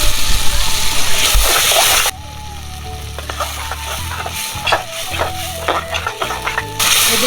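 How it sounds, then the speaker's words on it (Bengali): Masala paste of ground coriander, blended onion, garlic and ginger fries in a pan, a steady close sizzle with stirring scrapes and small splatters running throughout, briefly dropping in level partway and swelling again near the end. "এদিকে আপুরা আমার মশলা কষানো হয়ে গেছে"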